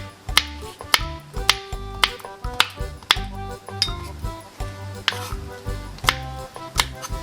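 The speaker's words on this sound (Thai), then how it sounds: "หั่นว่านดอกหางจระเข้อย่างนี้นะคะ" Repeated knife strikes slicing aloe vera on a cutting board, sharp regular chops about one per second, close and crisp, with no talking.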